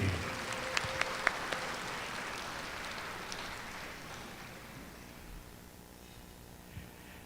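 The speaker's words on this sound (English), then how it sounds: "Ladies and gentlemen, one last round of applause for the class of" Applause from a gala audience at a sports hall of fame ceremony, a soft, wide, rain-like patter of many hands heard from a distance, a few sharper claps early, slowly fading toward the end.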